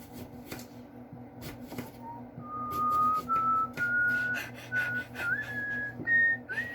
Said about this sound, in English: You started whistling